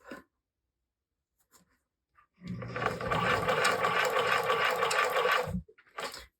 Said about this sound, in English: I'm going to sew right to that point.